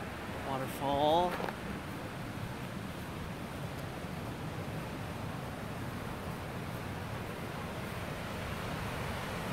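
Steady broad rushing of a park waterfall on the Humber River fills the whole clip, constant and loud, with a brief warbling tone near the start.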